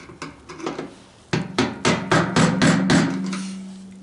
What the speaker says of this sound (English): Now I'm taking a screwdriver. I don't have a brass punch or anything, but if you notice, I got my ball peen hammer,